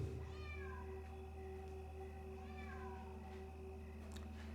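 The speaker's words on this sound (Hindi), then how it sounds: "ये शायद वही बिल्ली है।" A cat meows in repeated drawn-out calls during a nighttime ghost-hunting search, faint and somewhat distant over a steady electrical hum.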